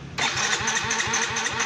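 A motorcycle's electric starter cranks when its push button is pressed, giving a loud rapid rhythmic churning, close by and steady, with no voices.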